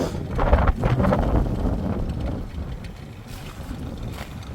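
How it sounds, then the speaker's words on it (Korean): Strong gusting wind buffets the microphone at a seaside campsite in Sokcho during a gale warning, a loud continuous roar with heavier bursts early on, no voices heard. "여기도 바람이 너무 많이 부네. 바람이 많이 불어가지고."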